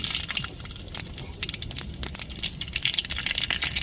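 Mustard seeds and urad dal crackling and sizzling in hot oil while tempering for sambar, a dense steady spatter of tiny pops and hiss close by, with no talking.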